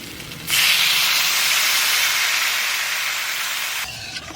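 Loud, steady hiss as water hits a hot pan in a village kitchen, starting abruptly and holding evenly for about three seconds before cutting off.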